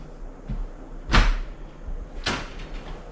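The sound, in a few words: dishwasher door opening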